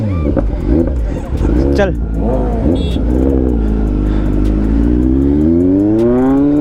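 A Kawasaki Z900 motorcycle is ridden at full throttle, pulling a wheelie at over 150 km/h, and its engine note climbs loud and close in a long rising pull after some earlier revving. Someone speaks briefly over the engine near the beginning.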